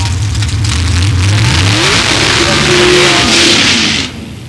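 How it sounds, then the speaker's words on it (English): A drag racing car revving loudly during a burnout, its engine climbing through repeated rising sweeps with tire roar and hiss, cutting off abruptly near the end, while a commentator talks over it. "Magnus Wallin here going through his burnout"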